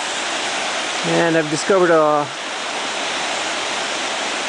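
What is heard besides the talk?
South Fork of the Merced River flowing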